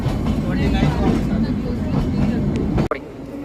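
Mettupalayam–Ooty toy train rolling along its rails as it nears Ooty station: a steady, loud rumble and rattle of carriages that goes on with a murmur of passengers, then a sharp clunk near the end.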